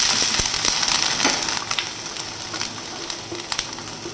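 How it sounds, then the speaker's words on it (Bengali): Capsicum, yellow bell pepper, chopped garlic and onion sizzle steadily in hot oil while being stirred, with light scraping and crackling pops over a continuous close frying hiss. "একটু নাড়িয়ে দিচ্ছি।"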